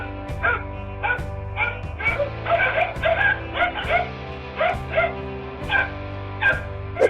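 Several dogs bark and yip repeatedly at a cobra near a house, sharp excited barks in quick uneven bursts, close and loud, with a higher whimpering yelp mixed in.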